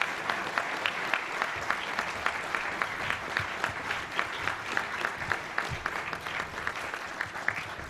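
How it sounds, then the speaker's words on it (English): A live audience at a National Press Club event applauds a guest speaker, with dense, sustained clapping from a room full of people, steady and moderately loud for several seconds without talk over it. "How about a round of applause for our guest speaker today?"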